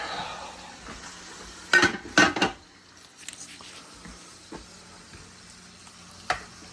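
Steak frying in a pan for a homemade cheese steak: a low, quiet sizzle broken by a few sharp clattering bursts of metal, like a pan or lid being handled, with no talking.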